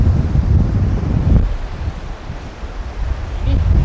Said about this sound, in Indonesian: di sini angin lagi kencang ya